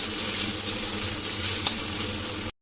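Ginger-garlic paste, sliced tomato and slit green chillies sauté in a pan with a close, steady frying sizzle and faint stirring, holding evenly for over two seconds before stopping abruptly.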